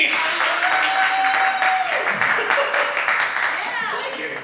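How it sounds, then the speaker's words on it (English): Applause at an open mic night in a bar, a lively burst of clapping from the crowd that carries on for several seconds, with voices and a whoop mixed in and a faint tone underneath. "A big round of applause for Ski!"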